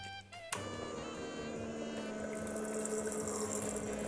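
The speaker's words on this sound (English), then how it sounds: "this one, unlike regular Stanley tumblers, can actually shoot water into your mouth" A futuristic Stanley tumbler with a button-driven pump shoots cold water in a steady, continuous spray that starts abruptly and runs loud and close for several seconds, with no talking.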